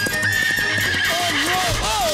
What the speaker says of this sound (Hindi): ये घोड़ा है?